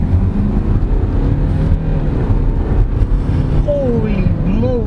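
A 2021 BMW X3 xDrive20d M Sport diesel engine pulls hard under acceleration, a steady low cabin drone building throughout, with an occupant talking over it.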